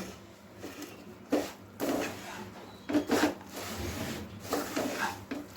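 Puffed rice being mixed by hand with jaggery, giving soft, close rustling and scraping with several brief louder crunchy bursts, no voice.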